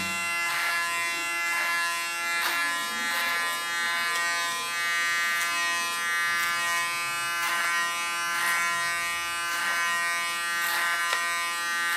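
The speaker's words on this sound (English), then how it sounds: "with the tips of the clipper comb, I comb the hair, and then I get a softer line" An electric hair clipper with a comb attachment cuts a soft line into short hair, a steady close buzzing hum with faint rhythmic pulses as it passes repeatedly through the hair.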